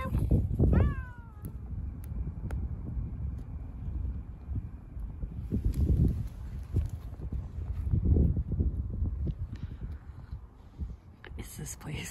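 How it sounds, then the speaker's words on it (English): A cat gives one clear rising meow near the start, then outdoor wind noise and a person talking fill the rest. "This is a different cat."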